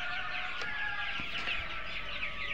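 Tiger chickens on a farm clucking and calling, several birds close by making overlapping, continuous vocal sounds with a few short sharper notes mixed in.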